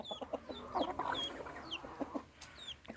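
A rooster and young chicks cluck and peep close by while feeding in a farmyard. Short bright chirps overlap low clucks in an irregular, lively patter, with no talking.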